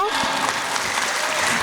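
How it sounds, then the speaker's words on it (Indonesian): An audience at a stunting-prevention outreach event in Suko village, Sidoarjo, applauds with dense, steady clapping filling the whole stretch, loud and close, with a brief vocal sound near the end. "Boleh tepuk tangan untuk beliau."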